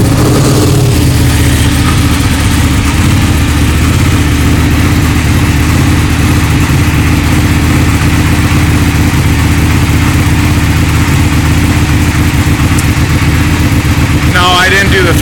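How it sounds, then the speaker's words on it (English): An Aprilia Tuono 1299 motorcycle engine rumbles loudly and steadily at idle throughout, close by and unchanging, with a voice briefly heard at the very end. "We'll do a little fire up of the"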